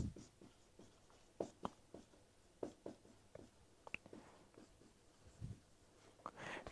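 Pen or chalk strokes on a writing surface during a thermodynamics lecture make a steady series of short, quiet scratches and taps, close and faint, with no talking.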